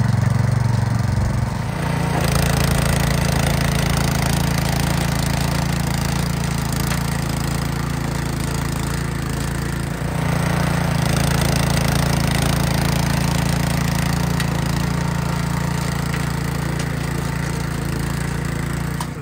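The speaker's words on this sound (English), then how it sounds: "let's get the Craftsman rear tine garden tiller going" Craftsman rear tine garden tiller engine running loud and steady close by, with a short dip in level near the start and another brief dip midway before it settles back to a constant rough drone.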